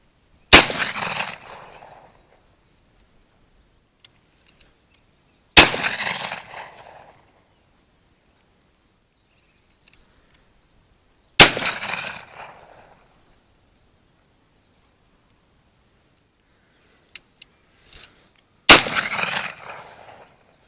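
Four loud, sharp shotgun blasts fired at crows over a spring barley field, each ringing out and echoing before fading, spaced several seconds apart with near silence between them.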